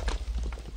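Horse hooves clip-clop along in a Minecraft game, a quick run of soft, close footfalls over a low steady hum, with no one talking.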